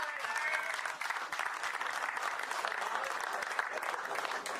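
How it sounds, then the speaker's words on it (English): Audience applause at the closing ceremony of an international over-40s cricket tournament, dense steady clapping from a crowd for the whole stretch, fairly distant and moderately loud, with no voices on top. "I want a big round of applause for your TLOs."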